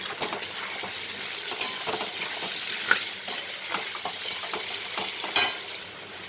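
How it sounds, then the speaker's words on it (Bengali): Potatoes and onions frying in a pan, a steady close sizzle with scattered scrapes and clicks of stirring, no voices. "আলুও ভাজা হবে আর পেঁয়াজও ভাজা হবে"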